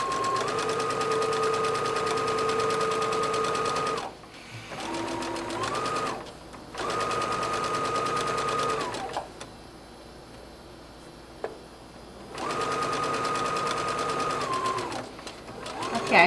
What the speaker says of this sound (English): I'm going to once again start that stitch, reverse it, and start again